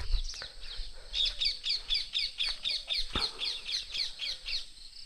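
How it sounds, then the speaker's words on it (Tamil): Small birds chirp in quick repeated phrases in a forest in the Sathyamangalam reserve forest, Tamil Nadu, fairly faint and steady, with a few softer calls in the background. "பறவைகளுடைய சப்தம்லாம் உங்களுக்கு கேட்கும்னு நினைக்கிறேன்."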